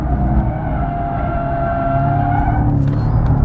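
Porsche 718 Cayman GTS, a mid-engine sports car, sliding through a drift on worn tires, its loud engine droning steadily with tire squeal running underneath for the whole stretch.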